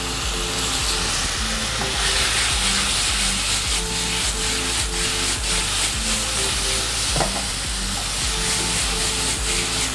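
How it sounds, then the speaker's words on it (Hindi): Chicken boti pieces frying over high heat in a pan, a loud, constant sizzle with the scrape and clatter of stirring throughout and no voices. "तेज से हीट में बोटी को फ्राई करेंगे 2 से 4 मिनट"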